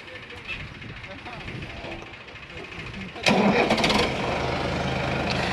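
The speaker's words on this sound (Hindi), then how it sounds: "भाइयों दोनों ही ट्रैक्टर स्टार्ट करवा दिए," Two Sonalika DI-55 tractors start up on a farm, a sudden loud engine surge that settles into a steady diesel rumble, following faint background noise.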